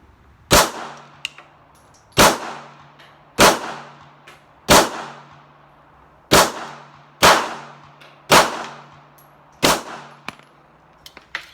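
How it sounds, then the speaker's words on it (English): Eight sharp Beretta pistol shots crack out at a shooting range, evenly spaced about a second apart. Each is a loud, close report followed by a short ringing decay, with no talking. "I'm going to shoot one more mag"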